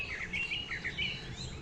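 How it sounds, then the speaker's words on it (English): Birds chirp and twitter outdoors in a continuous series of bright, overlapping calls, moderately close, during a walk with a dog, with no talking. "Ooh, those birds are chirping now."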